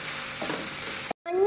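A grated coconut mixture fries in a pan and is stirred, giving a steady, close hiss that breaks off abruptly near the end and then comes back in with a brief tonal squeak, with no talking.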